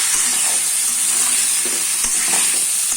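Pumpkin pieces being stirred with spices in a hot pan, a steady loud sizzle punctuated by a few soft scraping knocks of the spoon, close up and without speech.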